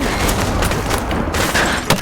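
Gunfire rains down from above in Call of Duty Modern Warfare Remastered, a dense, loud fusillade of rapid shots and booms filling the whole moment with barely a gap.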